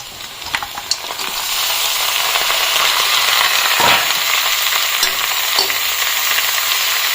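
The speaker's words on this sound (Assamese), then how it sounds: "এতিয়া মাংসখিনি কিছু টাইম বঢ়িয়াকৈ ভাজি থাকিম।" Boiled pork frying in a pan with onion and chilli, a loud steady sizzle close by with a few soft scrapes of stirring.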